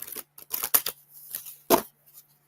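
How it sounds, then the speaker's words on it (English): A deck of cards being shuffled in a few quick, close, crisp riffles and flicks, with short pauses between bursts. "One more shuffle."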